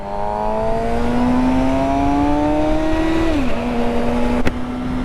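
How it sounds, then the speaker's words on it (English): A 2025 Suzuki GSX-R750 sport motorcycle with its stock exhaust drones loudly at steady revs, pitch rising slowly, then dropping briefly before settling, close by with no talk. "Can you guys believe this is the stock exhaust system on this motorcycle?"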